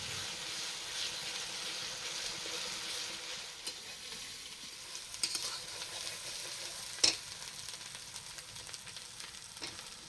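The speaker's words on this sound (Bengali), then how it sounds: "পেঁয়াজগুলি ভাজা হয়ে গেলে এতে পরপর রসুন বাটা এবং আদা বাটা একসাথে দিয়ে ভালোভাবে ভেজে নিতে হবে" Onion fries with garlic and ginger paste in a pan, a steady low sizzle running throughout with scattered clicks and stirring scrapes, moderately quiet, no voices.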